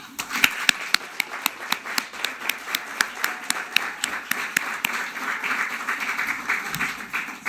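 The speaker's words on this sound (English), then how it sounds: "And join me in a round of applause." Graduation ceremony audience applause, opening with evenly spaced rhythmic claps that merge into a steady wash of clapping from a large crowd.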